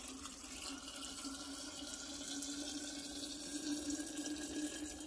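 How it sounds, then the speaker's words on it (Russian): Boiling water is poured steadily into glass jars packed with sweet cherries for a winter compote, a continuous close splashing and filling stream that runs for about five seconds with no talk. "Теперь заливаю крутым кипятком."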